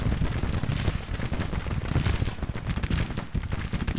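Civil War musket volleys in the Grand Tactician video game, a continuous, dense crackle of overlapping shots that rolls on without a break at steady loudness.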